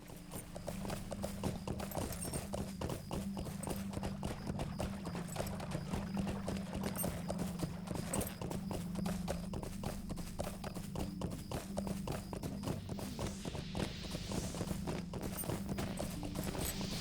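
A horse ridden in the LOTRO video game, with steady, rapid, even hoofbeats that continue without a break throughout.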